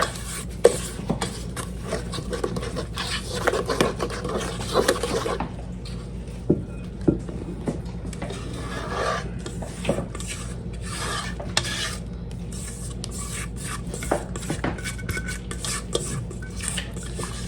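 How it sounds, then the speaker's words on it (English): Tres leches cake batter stirred in a bowl by hand, with a run of close scraping and clinking strokes that come in uneven bursts against the bowl. "Let me give this a good stir."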